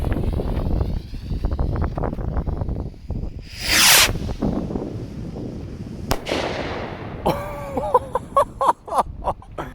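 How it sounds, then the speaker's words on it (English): A loud bottle rocket firework whooshes up and bursts in a sharp crack in daytime, followed by more scattered pops and crackles against rushing wind noise outdoors. "that was the loudest firework that I've heard yet"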